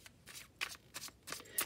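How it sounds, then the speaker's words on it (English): A Janus Tarot deck is shuffled by hand in soft, papery riffling bursts, about five quick swishes in a row, close and quiet, with no voices. "We're doing on-camera shuffling and we're using my Janus Tarot deck."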